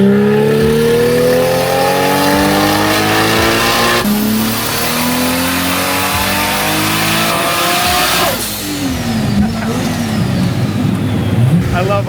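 A loud Nissan RB six-cylinder engine in an R33 GT-R sedan revs hard on a dyno and climbs steadily in pitch, easing off near the end before roaring back up, close and continuous.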